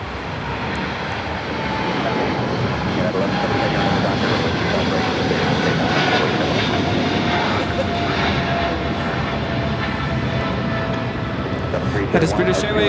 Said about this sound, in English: That is British Airways 280 taking off to London Heathrow on the 777-300ER.